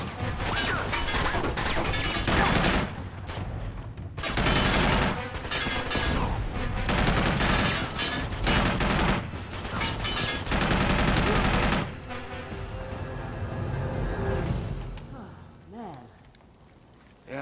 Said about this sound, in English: These machine guns have limited ammo.